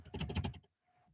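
A run of fast computer-keyboard keystrokes while Python code is typed, a quick cluster of close clicks for about half a second followed by near silence.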